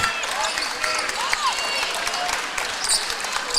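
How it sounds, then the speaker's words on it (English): A crowd claps and cheers at a basketball game in a large echoing gym, with sneakers squeaking on the court and indistinct voices mixed in. "Applause coming from the East Central crowd behind us"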